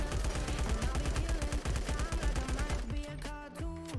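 Video game gunfire from a full magazine, a rapid rhythmic stream of automatic shots for about three seconds, then tapering into electronic game sounds as someone talks over it.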